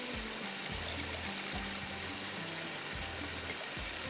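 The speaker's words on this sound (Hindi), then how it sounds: "सारा आपने पानी निकाल के आप इस तरह से डालेंगे।" Soaking water being drained off rice into a cooking pot for aloo tahari, a steady close wash of pouring and trickling water with a low rhythmic bubbling undertone.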